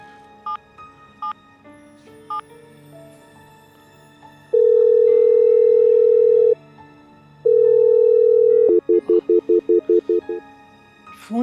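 Phone ringback tone on an unanswered call, a long steady tone repeated twice then a rapid string of short beeps, heard alone and moderately loud with faint background music.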